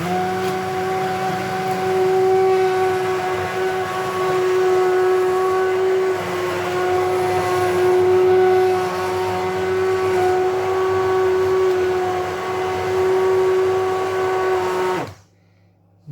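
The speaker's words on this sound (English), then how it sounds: "So with a stick blender, I'm just going to get in." A stick blender purees tomato soup in a pot with a steady, loud motorized whine and churning hum held for about fifteen seconds, then cut off abruptly into silence.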